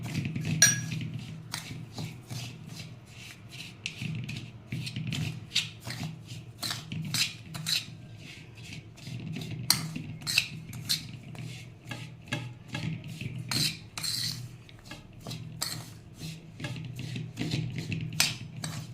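Dry spices, Kashmiri red chilli powder and hot chilli powder among them, mixed together in a bowl for homemade methiya masala, with steady scraping and rubbing strokes and light clinks, close and continuous without talk.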